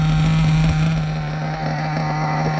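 A Hobao Hyper SST nitro RC buggy engine idles steadily during break-in, a close, continuous buzzing drone with a slight waver and no revving.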